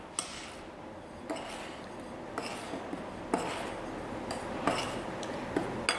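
A spoon clinks against a bowl while sugar is mixed in, giving a string of sharp metallic taps about once a second over a soft scraping background, during a Chelsea buns bread-making practical.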